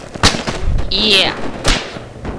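Enemy gunfire in the Vietnam-era military game Project Reality: sharp reports snap out at intervals through a busy scene, mixed with a brief whistling mechanical sound and some nearby talk.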